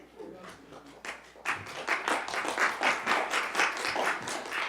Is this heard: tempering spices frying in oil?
no